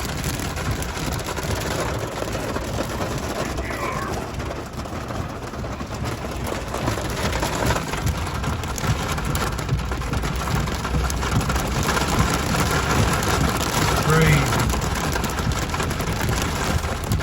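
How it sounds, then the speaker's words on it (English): Heavy hail in a major mountain storm in Utah, a dense continuous patter and drumming of stones on a surface, steady and fairly loud throughout with no talking. "it's hailing really bad"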